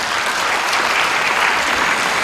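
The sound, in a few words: audience applause at a ceremony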